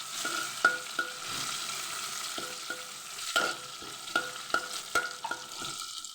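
Onion fries in a pan for masoor dal curry, a low steady sizzle broken by repeated clicking strokes of a spoon against the pan.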